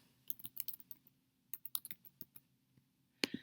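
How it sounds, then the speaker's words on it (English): A name is typed on a computer keyboard in two quick bursts of light clicking keystrokes with a pause between them, then a final pair of sharper clicks, close and quiet. "I'm going to go ahead and type in my name here"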